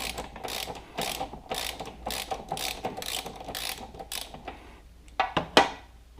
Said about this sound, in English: now I have to use a ratchet and a socket on the bottom of that bolt